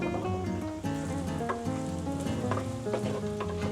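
Mutton frying in oil as turmeric is added: a steady sizzle that sits under loud, continuous melodic music throughout.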